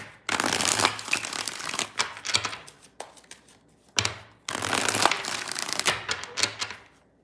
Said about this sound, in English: Three more shuffles here, 3 more.